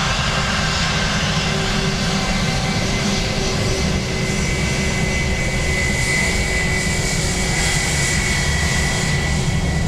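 A British Airways jet taking off from Dublin Airport bound for Heathrow, a loud continuous engine roar that holds steady and near for the whole stretch, with no voices over it.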